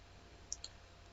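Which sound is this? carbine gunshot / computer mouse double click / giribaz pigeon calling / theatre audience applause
computer mouse double click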